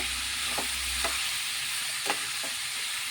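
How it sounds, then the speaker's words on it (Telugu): Tomato and cucumber pieces frying in a pan, a steady even hiss with a few faint stirring scrapes spaced through it, moderately quiet and close, no speech. "టమాటా దోసకాయ వేసుకుందాం మనం మూత పెట్టుకుని ఫ్రై చేసుకుంటే మనకి తొందరగా ఫ్రై అయిపోతుంది"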